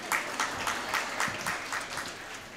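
Audience in a lecture hall applauding with a steady patter of many hands clapping, moderately loud and fairly even throughout, without anyone speaking over it.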